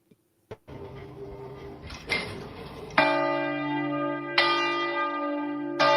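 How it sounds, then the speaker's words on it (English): Church bells ringing out across a city, loud struck tones that hum and layer as new strikes land every second or so, with no voices over them. "they're starting to ring the bells again in our city"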